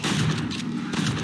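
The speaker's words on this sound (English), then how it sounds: "Bro, why are they shooting me?" Dense, continuous video game gunfire, a steady rattling barrage of overlapping shots filling the short stretch at close range, without talk.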